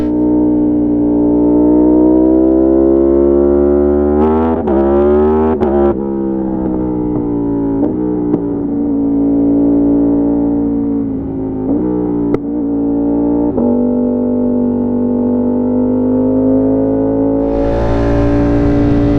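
Hyper naked motorcycle riding through a bend on cold tires, its engine holding a loud, steady droning note with a few brief throttle changes and shifts, then wind rush rising near the end.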